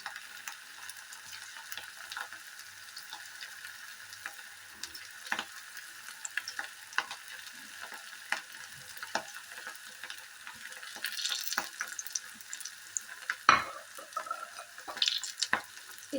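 Potato roll samosas frying gently in oil over low heat: a soft, continuous crackling sizzle with scattered pops and occasional handling clicks, close and moderately quiet.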